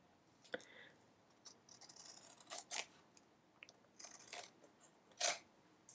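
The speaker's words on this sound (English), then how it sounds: "There's a little bit of left over here, so I'm just gonna cut it with my scissors." Scissors snip through leftover paper in a quiet room, giving a series of close, crisp, irregular cuts with short pauses between them.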